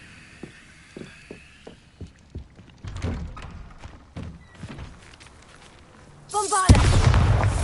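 Bombarda spell explosion in a video game arrives near the end as a sudden loud, broad blast that keeps rumbling. It follows a run of soft, evenly spaced thuds and footsteps.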